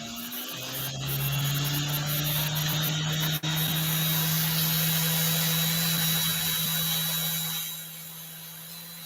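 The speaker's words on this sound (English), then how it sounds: "now I drill 3 holes" A power drill bores three holes in silver at a silversmithing bench, its steady motor whine running loud and unbroken for about seven seconds before winding down near the end, with no talking.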